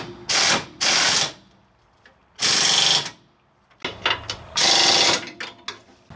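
Impact tool running a nut onto the coil-spring strut of a 2002 Mitsubishi Lancer, several loud rattling bursts about a second long, separated by short pauses, close up.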